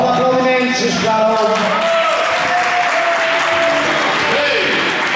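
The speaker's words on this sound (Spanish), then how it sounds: "Bon aplaudiment, sisplau." A crowd at an Andorran vintage-vehicle association gathering gives a round of applause, a fairly loud, steady patter of clapping mixed with tonal music and voices throughout.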